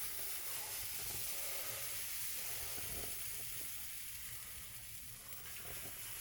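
Pancake batter sizzles steadily in a hot pan, a constant close hiss and crackle with no talking over it.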